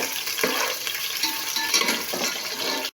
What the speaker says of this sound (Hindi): अब जाएंगे तड़के वाले प्याज के अंदर ये कोफ्ते, इनको थोड़ा सा हमने गोल्डन ब्राउन करना है।